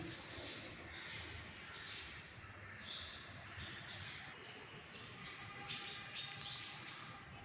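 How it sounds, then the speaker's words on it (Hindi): Birds chirp in the morning in the courtyard of the Shah Jahan Mosque in Thatta, Sindh, faint scattered tweets and short calls rising over a quiet outdoor hush, some nearer than others. "सुबह का वक़्त है, चिड़ियों के चहचहाने की आवाज़ें आ रही हैं।"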